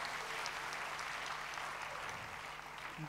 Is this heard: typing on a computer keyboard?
no